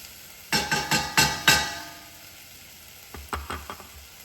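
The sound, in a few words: bone broth added to hot pan, sizzling, for chili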